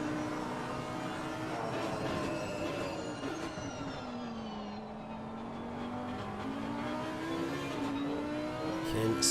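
Jaguar GT3 race car from the Assetto Corsa Competizione game, its engine droning steadily and rising and falling in pitch as it revs, heard at moderate level.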